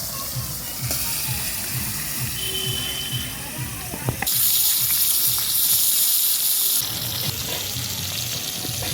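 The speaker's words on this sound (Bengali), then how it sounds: "তো গাইস তেলটা গরম হয়ে গেছে, এখন মাছটা একা একা ছাড়ে দিলাম।" Silver fish fried in hot oil gives a steady broadband sizzle that swells sharply louder and brighter partway through, then settles back to a continuous crackle, with faint clinks at moments.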